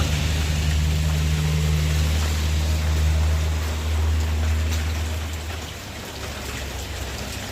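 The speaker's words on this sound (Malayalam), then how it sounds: "ഇവിടെ മഴ പെയ്തു തുടങ്ങി കേട്ടോ" Heavy rain falls steadily outdoors in Kerala, a dense, continuous patter that stays loud before easing slightly near the end, with a low steady hum beneath and no talking.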